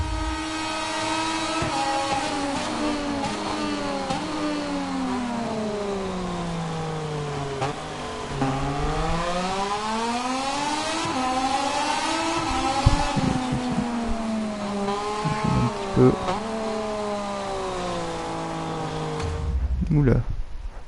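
Onboard a race car on a timed lap of a circuit, the engine rising and falling in pitch through repeated upshifts, heavy braking and downshifts, loud and continuous, with a voice talking over it.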